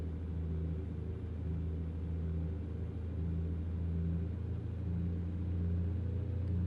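A heavy truck engine in American Truck Simulator rumbles steadily and loudly as the truck strains under an overweight load, a constant low drone with a faint periodic hum and no talking.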